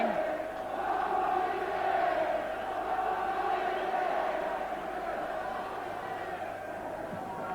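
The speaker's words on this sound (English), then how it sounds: "Some rather sarcastic applause for referee Hewitt." Aberdeen supporters at a 1986 Scottish Premier Division match against Dundee United give a steady, distant crowd roar with scattered sarcastic applause aimed at the referee, a continuous stadium murmur without a clear peak.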